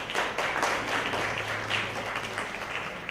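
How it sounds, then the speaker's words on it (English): Audience applause at the L'Oréal Paris Femina Women Awards ceremony, a dense, even roar of many hands clapping from a distance with a low hum beneath and no talking. "Big round of applause"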